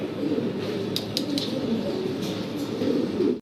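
Fancy pigeons coo in a loft, soft low rolling calls repeating continuously and close by, with a few faint higher clicks above them.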